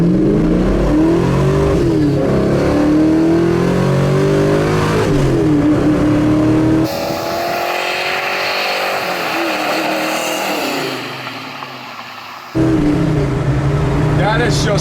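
A 1969 Ford Mustang Mach 1 V8 rumbling at a traffic light, a loud, lumpy, uneven idle with swelling revs, broken midway by a stretch of quieter road noise while someone speaks.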